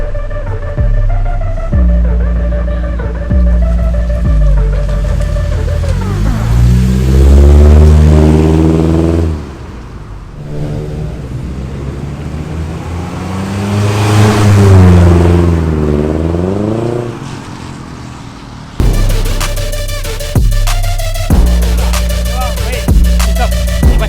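A Proton Inspira fitted with a new rear stainless steel exhaust revs repeatedly, its deep bassy drone swelling and falling in two long sweeps between throbbing idle, loud and close.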